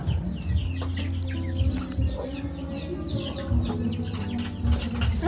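A group of hungry chickens cluck and chatter steadily while being fed at a rural home in Vietnam, a dense close flock sound with a low background hum and no talk.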